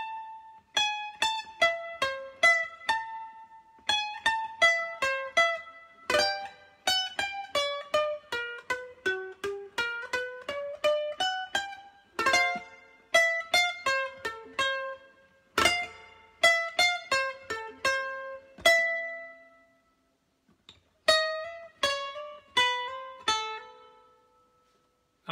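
Ukulele solo played very slowly, single plucked notes in short phrases separated by pauses, close and clean with no voices.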